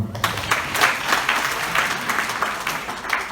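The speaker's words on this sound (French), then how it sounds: "Donc applaudissez pour moi." Audience applause fills a hall at a business opportunity talk, a steady dense patter of many hands clapping at moderate loudness with no speech over it.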